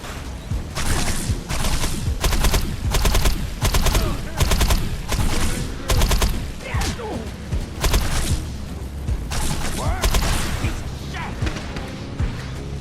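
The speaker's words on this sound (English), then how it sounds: "Headshots and critical hits produce a really satisfying, almost Call of Duty style sound effect that lets you know your hits are landing" Video game Defiance gunfire with hit-marker effects, repeated bursts of automatic fire in a rhythmic pattern, punchy impact sounds layered over ongoing game noise and a talking voice throughout.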